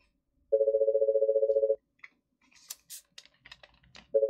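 A telephone line gives a steady, loud tone for over a second after a call fails to go through. Scattered clicks and handset rustle follow, and then the tone starts again.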